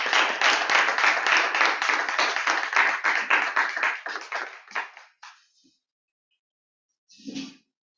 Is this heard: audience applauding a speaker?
yes